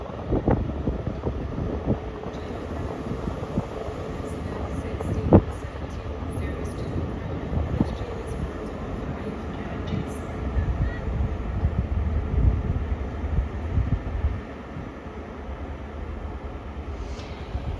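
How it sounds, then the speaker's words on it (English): A ScotRail passenger train, the service from Aberdeen to Glasgow Queen Street, pulls out of Edinburgh's Haymarket station with a steady low rumble, buffeted by wind noise on the microphone and punctuated by a sharp clank partway through. "Departing out now is the 1612 ScotRail service from Aberdeen to Glasgow Queen Street."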